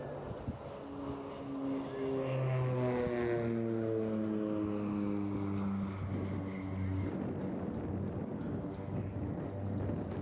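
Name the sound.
display aircraft making high-speed pass at Eastbourne airshow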